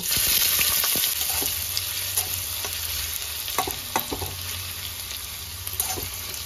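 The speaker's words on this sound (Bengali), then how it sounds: "তেলটা গরম হয়ে গেছে, এবার আমি পেঁয়াজ কুচি দিয়ে দেব।" Chopped onion frying in hot white oil in a wok on a gas stove, a close, steady sizzle broken by scraping stirs and light clatter of a spatula.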